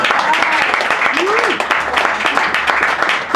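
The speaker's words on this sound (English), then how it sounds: "It says here there's another round of cheering and whooping." An audience bursts into sustained applause and cheering at a literary road show event after a record manuscript auction announcement, dense clapping filling the room steadily with a voice rising over it.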